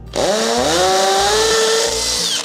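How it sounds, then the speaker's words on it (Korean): A hammer drill in hammer mode bores through tile into concrete, giving a loud, continuous, close grinding whine that rises in pitch as it spins up and holds steady with a rapid pulsing beat. "해머에다가 놓고 이거를 뚫게 되면은 이 소리가 나죠"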